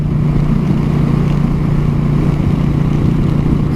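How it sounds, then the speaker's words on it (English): A motorcycle engine runs steady and loud, a continuous droning rumble heard close up while riding, with no talk over it. "I get to ride my motorcycle into work today"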